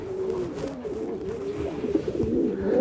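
A racing pigeon coos softly and steadily for a few seconds, its low murmuring calls close by and continuous with no talking.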